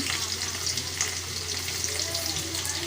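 Garlic sizzling in hot oil, a steady loud crackling fry with light stirring, no one talking.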